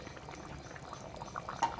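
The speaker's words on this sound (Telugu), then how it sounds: "అది ఎలా పొయ్యి మీద ఉన్నట్టే ఉడుకుతుందో" Fish curry (chepala pulusu) in a pot still bubbling after the stove is switched off, a faint, steady simmer of soft pops and gurgles close by, with no voices.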